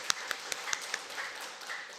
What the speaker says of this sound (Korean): 우리 축하하는 의미에 다시 한번 박수하겠습니다